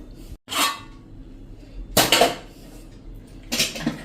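Metal plate or pan lifted off a gas stove while making churma ladoo, giving three sharp clanks and scrapes of metal on metal, close and loud, with no talk.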